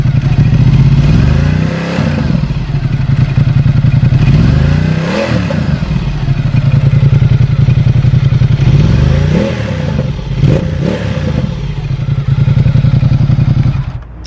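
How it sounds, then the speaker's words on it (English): A 2019 Ducati XDiavel motorcycle idles loudly with its stock exhaust and is revved several times in sharp, rising bursts, close by. "So Ducati Xdiavel 2019 stock exhaust."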